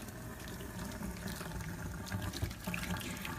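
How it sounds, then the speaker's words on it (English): Boiling water poured from a kettle down a household drain, a steady close rushing and gurgling stream that runs continuously without pause. "you just pour the boiling water. Don't burn yourself, probably don't let your kids do this bit, but just pour it all down the drain."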